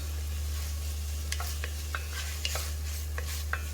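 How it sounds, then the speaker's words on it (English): Onions and garlic sautéing in a pan, a steady close sizzle with irregular scraping strokes of a utensil stirring, under a constant low hum. "We'll just saute this"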